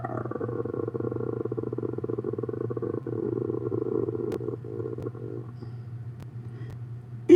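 A human voice imitates a cat with a low, rolling, purr-like rumble. The sound stays steady and close for several seconds, then softens toward the end before a brief louder burst.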